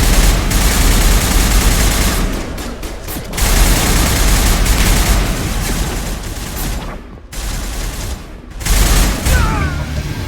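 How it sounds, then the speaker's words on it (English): Sustained gunfire from a firefight in the video game Mass Effect, loud and dense bursts of shots with booming impacts, pausing briefly a few times before the shooting resumes. "Open fire. Open fire!"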